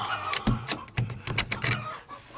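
A silkie and buff Orpington cross hen clucks repeatedly in short, close bursts, a soft irregular rhythm of throaty chuckles with brief pauses.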